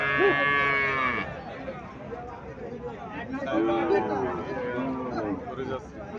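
An Indian Sahiwal cow moos loudly at a busy Comilla cattle market, two long lowing calls rising over crowd chatter and someone talking nearby.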